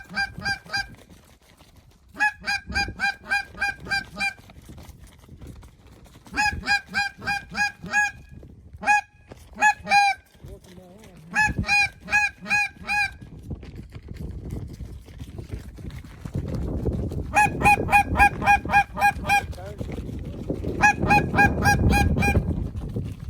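Large flock of geese honking during a goose hunt in Oklahoma, repeated bursts of loud overlapping honks arriving in waves over a low outdoor rumble, growing denser and closer toward the end.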